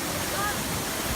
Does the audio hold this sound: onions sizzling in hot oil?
no